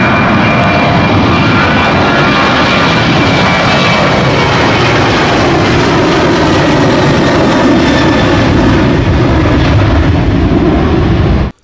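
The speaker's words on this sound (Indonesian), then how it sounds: "ada pesawat terbang besar sekali" Toy airplane gives off a loud, continuous jet-engine roar at close range, a steady, unbroken drone lasting over ten seconds before cutting off abruptly.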